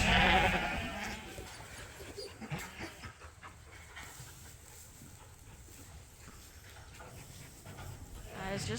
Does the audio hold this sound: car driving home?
no